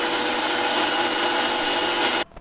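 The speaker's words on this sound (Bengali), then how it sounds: "এটা ব্লেন্ড করে নিচ্ছি। এবার দেখুন শুকনোটাই বাটছি।" A blender grinds dry poppy seeds without water, a loud, harsh, steady whir close up that runs for about two seconds before cutting off abruptly into near silence.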